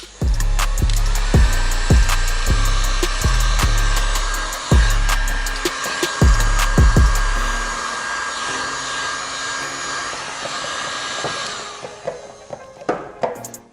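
A heat gun blows with a loud, steady whooshing roar close by while warming a car bumper on an MX5 Miata, accompanied by clicking and knocking at the start before the airflow winds down near the end.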